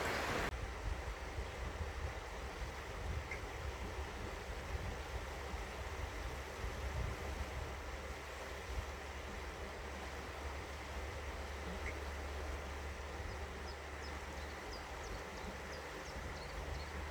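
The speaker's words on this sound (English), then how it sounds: "As you can see, the river's high at the moment," The River Tay runs high in March, a broad, steady rushing roar of flowing water that stays constant and fairly close throughout, with no voices.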